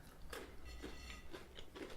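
Close, quiet biting and chewing on a Sainsbury's Caramel Crisp milk chocolate bar with caramel crunchy bits, several crisp crunches spaced over a soft steady background.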